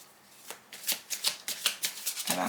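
Tarot cards are shuffled by hand in a run of quick, crisp riffles and slaps, close and fairly clear, with no voices over them.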